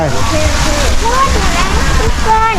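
Steady rushing and sloshing of a waterfall in a Chiang Rai park setting, loud and continuous, with people talking over the water throughout.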